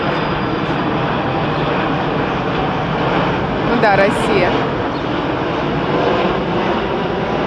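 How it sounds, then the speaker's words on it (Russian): A large airplane flies low overhead near a hotel during an evening animation show, its steady, loud engine roar filling the whole stretch while people talk over it. "здесь самолеты низко летают"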